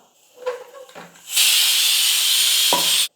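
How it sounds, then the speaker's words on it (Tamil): A kitchen pressure cooker, taken off after four whistles, lets out a loud, sustained hiss of escaping steam for nearly two seconds, preceded by brief clatter and handling sounds and cut off sharply. "நாலு விசில் வந்து குக்கர் வந்துடுச்சு"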